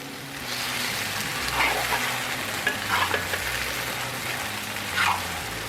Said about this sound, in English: Let me stir fry that around a bit.